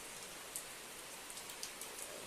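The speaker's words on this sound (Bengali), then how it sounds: "সাড়ে আটটা নাগাদ বৃষ্টি হচ্ছে মালদা টাউনে" Rain falls steadily over a town in the evening, a soft, even hiss with a few faint drips standing out, quiet and heard from indoors, with no speech.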